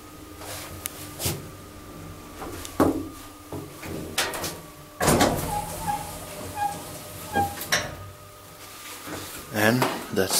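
The sliding door of a 1992 Doppelmayr traction elevator in Ellmau, Austria, closes with a series of mechanical clunks, knocks and a rumbling slide. A person speaks intermittently nearby.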